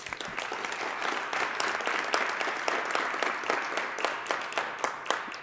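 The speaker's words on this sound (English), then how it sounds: "One more round of applause for Mrs. Braga." Audience at a Fall River School Committee award presentation gives a sustained round of applause, dense and even clapping from a room full of people, steady throughout with a few sharper individual claps standing out.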